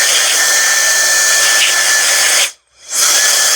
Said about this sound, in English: I use one of these blow guns. You can blow these things almost completely dry.